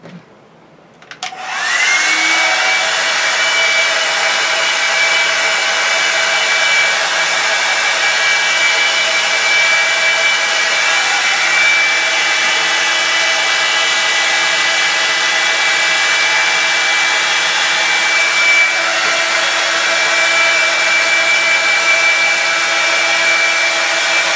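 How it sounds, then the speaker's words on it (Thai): A hair dryer switches on and blows steadily at close range while short permed, neck-length hair is dried and set, a loud, constant whooshing whine that holds unchanged for over twenty seconds. "เป่าเพิ่มเติมอีกนิดนึงนะคะ เป่าเพิ่มเติมนิดนึง เพื่อ เป็นการย้ำให้แสกตรงนี้ค่ะอยู่ ตลอดทั้งวันนะคะ"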